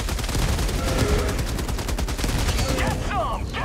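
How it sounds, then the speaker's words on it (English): Heavy machine gun emplacement firing in Helldivers 2, a rapid, relentless stream of loud, close automatic shots with explosions and game effects mixed in, with voices faintly underneath. "God, the HMG emplacement feels so much better."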